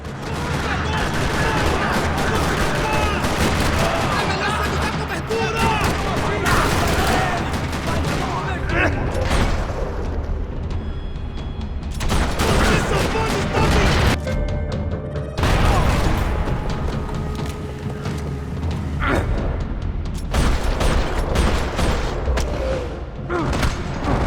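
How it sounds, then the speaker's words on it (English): Heavy gunfire rattles through a parking lot in the video game Max Payne 3: bursts of rapid shots, loud booms and crashes come in dense waves with brief lulls between them. "Another parking lot rattling with gunfire"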